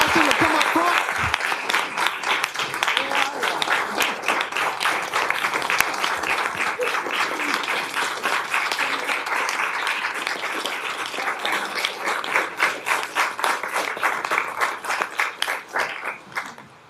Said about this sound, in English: let's give a round of applause for the Addisons